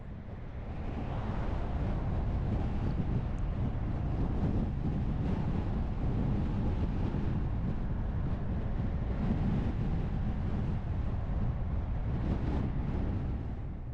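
Steady, heavy wind rumble buffets the microphone continuously, a dense low roar with no pauses and no voices.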